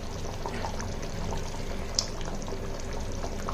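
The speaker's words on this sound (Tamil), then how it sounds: "கொஞ்சமா வந்துட்டு நல்லெண்ணெய் சேர்த்துக்கோங்க" Sesame oil is poured into a bubbling jackfruit seed kara kuzhambu, a spicy Tamil curry, with a steady close simmer and sizzle throughout and one brief sharp splash.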